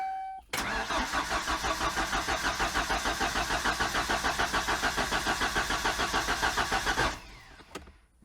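A 1994 Ford Ranger engine cranks over steadily for about six seconds, the starter's rhythmic chugging loud and even without catching, then stops, leaving quiet.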